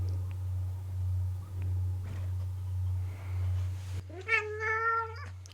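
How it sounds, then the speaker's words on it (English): Ace, a pet cat, lets out a clear, drawn-out meow near the end, following a low steady hum and faint rustling. "I should introduce you to this cat. This is Ace."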